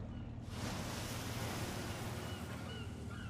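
Ocean waves and a crab fishing boat in the Alaskan Bering Sea game Deadliest Catch: Alaskan Storm make a steady, broad hissing surf with a low engine-like rumble, quiet and continuous, without talk.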